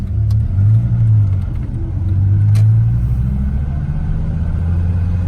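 American car engine heard from inside while driving, a loud steady low rumble with the revs rising and falling gently under the cabin, no talking.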